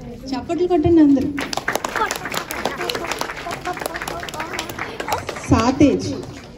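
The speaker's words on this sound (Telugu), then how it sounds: "చప్పట్లు కొట్టండి అందరూ." An audience claps at the Montreal Manabadi children's festival 2024 in Canada, a busy run of many hands lasting several seconds, with a voice speaking before and after the clapping.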